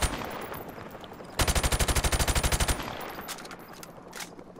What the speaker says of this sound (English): Okay, I've shot in him a lot.